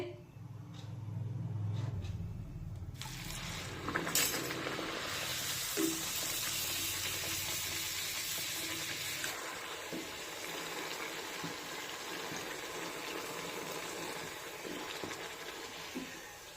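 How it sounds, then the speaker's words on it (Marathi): Puris spiced with chilli and salt deep-frying in hot oil, a steady faint hiss and bubble that swells louder partway through and then settles back into a soft continuous sizzle. "आणि आता अशाच पद्धतीने राहिलेल्या सर्व पुऱ्या तळून घेते."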